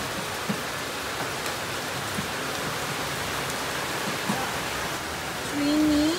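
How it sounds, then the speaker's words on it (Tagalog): Steady rain falls during a flood, a soft, even hiss of drops on surfaces with a few louder taps, followed by a brief tonal sound near the end. "Guys, stranded. It's raining."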